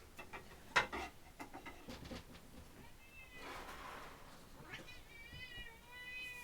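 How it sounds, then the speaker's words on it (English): A pet cat meows indoors close to the microphone. Several drawn-out, rising and falling cries come near the end, after some soft rustling and faint breathy sounds. "my cat."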